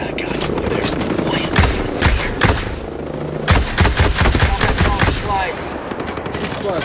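Gunfire in Ghost Recon Breakpoint crackles in loud rapid bursts, automatic volleys with short gaps between them over a continuous background rumble.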